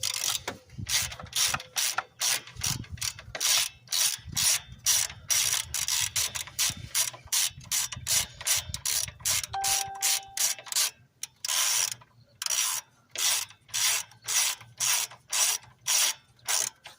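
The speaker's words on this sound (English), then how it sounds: "we'll switch back to our 10mm and get this bolt off of this bracket as well" Rapid clicking of a 10mm ratchet wrench backing a bolt off a bracket on a 1995-96 GMC Sierra 5.7L during an intake job, in quick bursts of ratcheting strokes with short pauses, close and distinct.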